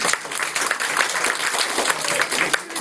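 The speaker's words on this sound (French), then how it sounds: "On peut applaudir monsieur Berthelot." Audience claps at a primary-school theatre show, a steady crackle of many hands that stays loud and even throughout, with no talking over it.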